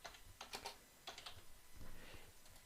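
A computer keyboard is tapped to type a short comment, a few quick clusters of soft, close keystrokes with brief pauses, quiet and without speech.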